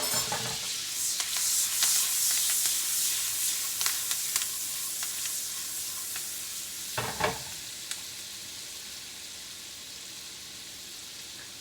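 Garlic and a goat chop fry steadily in a hot pan, a continuous close sizzle with scattered crackles and a few brief scraping clicks, no talking.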